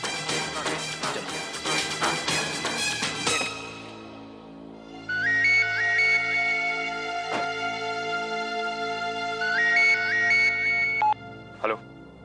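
After some music fades, a melodic electronic ringtone plays, repeating its short bright tune twice before a sharp click.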